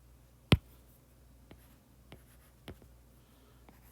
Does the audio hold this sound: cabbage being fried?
no